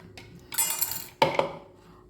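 Walnuts tipped into brownie batter in a mixing bowl, a short rattling clatter of nuts and a spoon clinking against the bowl, then a second quick scrape and clink, close and fairly loud.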